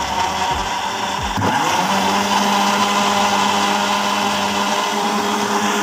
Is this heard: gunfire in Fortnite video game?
no